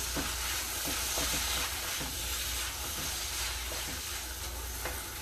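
Beef for sweet potato and beef stew browning in a pot, a steady close sizzle and hiss with occasional soft stirring scrapes, no talk.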